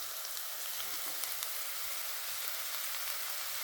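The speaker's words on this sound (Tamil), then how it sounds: "அதையும் லேசாக ஒரு வதக்கு." Ginger-garlic paste sizzles and fries steadily in a pan for a white kurma, a continuous crackling hiss with a few sharper pops, close and fairly loud, with no talk.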